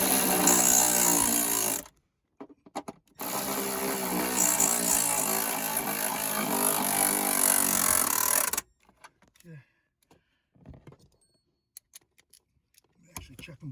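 Car battery hold-down bracket nuts on a Dodge Durango being tightened with a power tool, two sustained whirring runs with a short gap between them, followed by faint clicks and handling noises.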